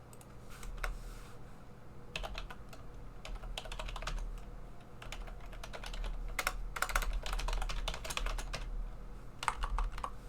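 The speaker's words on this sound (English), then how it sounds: "I hate typing that command." Someone types on a computer keyboard while entering network configuration commands, bursts of rapid close key clicks separated by short pauses, moderately quiet over a low background hum.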